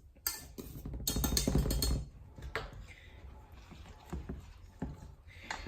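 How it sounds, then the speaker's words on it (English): Dry ingredients are stirred into a wet batter for apple bread, with a utensil clinking and scraping against the mixing bowl in close, uneven bursts that grow busier and then ease into lighter taps. "Now you're just going to slowly mix in your dry mixture in with your wet mixture"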